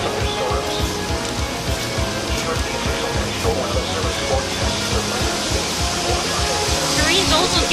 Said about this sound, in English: The rain's also getting heavier. Like how the winds are getting stronger.